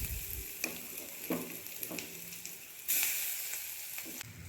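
Spice paste, ground in a mixer with tamarind, goes into a pan of fried chopped onions for a chana dal and bottle gourd peel dish, giving a steady close sizzle with a few clinks and stirring scrapes.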